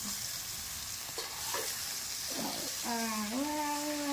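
Eggplant pieces with their stalks being stirred and fried in a little oil, a steady sizzling hiss with scraping strokes of a spoon, and a voice speaking briefly over it toward the end.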